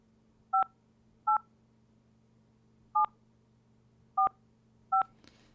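Telephone DTMF keypad tones synthesized in Wolfram Language: five short, clean dual-tone beeps at uneven intervals over a faint steady hum, with no talking.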